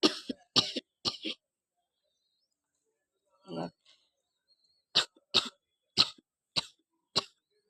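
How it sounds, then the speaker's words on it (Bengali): A person coughing near a nest of spotted dove chicks: a string of short, sharp coughs in small clusters, with a brief throat-clearing sound midway and silence between, fairly faint. "আমার কাশি হচ্ছে"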